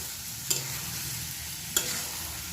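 Mixed vegetables with spices fry in a pan under a steady close sizzle, with two sharp spatula knocks against the pan during the stirring and no voices.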